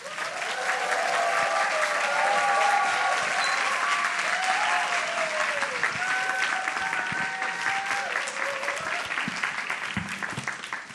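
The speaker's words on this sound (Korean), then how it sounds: "큰 박수로 환영해 주시기 바랍니다" A church congregation at a youth worship service breaks into loud, sustained applause to welcome a pastor, with dense clapping throughout, while people speak and music plays faintly beneath it.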